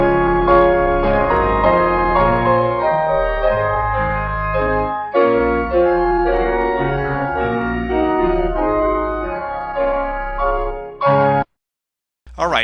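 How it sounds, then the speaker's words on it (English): Sustained organ chords pitch-shifted up a half step in Audacity, with a wavering, warbly artifact in the tone, loud and continuous until an abrupt cut to silence near the end. "what you hear there is a wobble, quite a bit of artifact"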